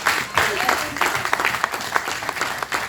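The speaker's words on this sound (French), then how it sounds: "On va acclamer le Seigneur." A church congregation at a gathering at EMER church claps loudly and steadily, with dense, continuous applause and a voice heard over it.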